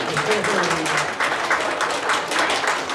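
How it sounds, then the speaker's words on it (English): Audience at a Scout pack magic show clapping loudly together, a dense, steady wash of applause that fills the whole stretch with little variation in level. "Put them together, clap really, really loud"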